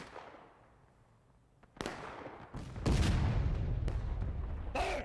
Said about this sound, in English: We're gonna do a volley, see if we can pull their attention a little bit more